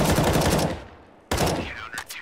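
Rapid automatic gunfire sprays through smoke on Counter-Strike's Dust2 map, a loud dense burst of shots that cuts off, then a second sharp volley follows after a brief lull, with faint whistling tones near the end.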